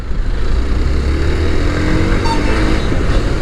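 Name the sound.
Hero Xpulse 200 motorcycle riding on test road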